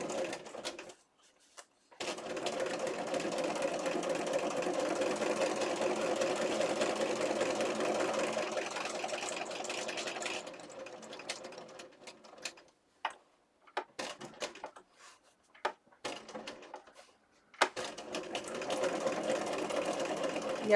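A sewing machine stitches through paper, running in a steady whirring burst up close, then stopping and restarting in short, choppy bursts with pauses between them.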